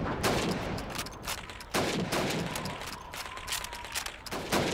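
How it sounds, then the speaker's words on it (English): Rapid rifle gunfire in Call of Duty 2 as a player shoots helmets on a target course, with sharp loud shots in bursts and brief pauses between them. "15 seconds to shoot the helmets."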